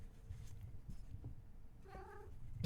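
A pet cat gives a short, faint meow near the end of a quiet stretch, with low rustling beforehand.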